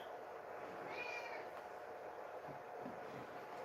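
A cat meows once in the middle, a rising tonal cry over a steady background hum and rumble, fairly faint and with no talking.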